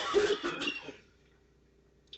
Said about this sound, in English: I can stop coughing for a second